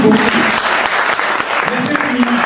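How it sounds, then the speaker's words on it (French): An audience applauds steadily and loudly at a book launch ceremony, dense clapping throughout with a voice speaking over it. "on va les saluer en les applaudissant"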